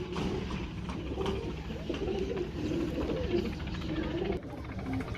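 Repeated throaty cooing from pigeons nearby, rolling in short phrases over a busy, steady background rumble.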